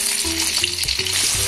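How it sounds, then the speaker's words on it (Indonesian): Eggplant sizzles and fries in hot cooking oil in a home kitchen pan, a steady close crackling hiss with a few brief louder pops, no talking. "Ini sudah saya panaskan minyak goreng secukupnya. Ditunggu panas minyaknya. Pertama dimasukkan terong."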